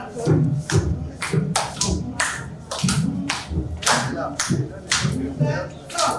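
A group claps hands during an exercise session at a seminar, a steady run of loud, close rhythmic claps, with voices calling out between them.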